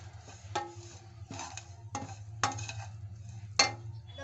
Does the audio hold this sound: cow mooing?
no